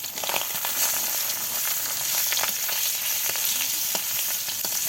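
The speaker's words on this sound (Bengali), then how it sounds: "উল্টে পাল্টে সুন্দর করে ভাজি করে নিচ্ছে আম্মু" Pieces of fish sizzle steadily in hot oil while being turned, a continuous close crackling hiss with small pops and spatters and no voices.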